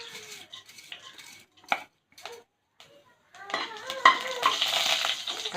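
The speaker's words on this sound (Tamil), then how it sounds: "கடுகு பொரிஞ்சிருச்சு. வெந்தயம் போட்டுக்கலாம்." Mustard seeds and fenugreek fry in hot oil in a pan for a Tamil fish curry. Faint kitchen clatter and a voice come first, then a close, crackling sizzle rises and holds through the last couple of seconds.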